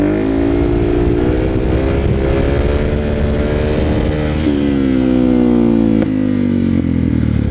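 Motorcycle engine revving hard through a clutch-up wheelie, a loud, close, sustained roar whose pitch climbs, dips and climbs again, with no voices over it.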